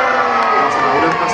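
A comedy club audience cheers and shouts loudly in a steady, full roar of many voices that fills the whole short moment.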